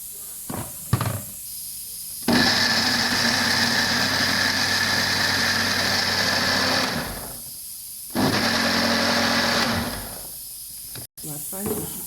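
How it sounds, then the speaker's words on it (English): A kitchen blender purees chopped tomato, tarugu pepper, onions and ginger in two loud steady whirring runs, separated by a short pause and ending with a brief click. "Now we are blending our tomato, our tarugu, the starter seed there, onions, ginger, everything well chopped to make it easy for our blender."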